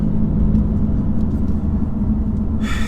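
A 2018 BMW M3 Competition on the move, its engine a loud, steady, close low drone with road rumble and a faint whine, and a brief higher hiss right at the end.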